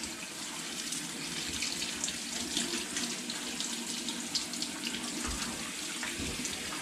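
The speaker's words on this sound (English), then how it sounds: "just using clean water, give it a good wash." Water runs steadily from a tap, splashing and gurgling against a K&N air filter held beneath it, with no talking.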